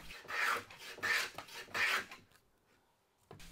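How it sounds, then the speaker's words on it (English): A hand plane takes shavings off a pine scrap clamped in a bench vise, making three long, loud rasping strokes in steady rhythm, then a quiet pause and the start of a fourth pass. "So I've got a scrap of pine and get clamped up and take some shavings."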